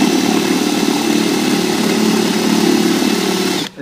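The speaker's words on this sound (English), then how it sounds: "Now you're going to come in here with the 3/4 inch paddle bit" A power drill drives a 3/4 inch paddle bit into a hole, giving a steady, loud, continuous whir that holds for several seconds and then stops abruptly.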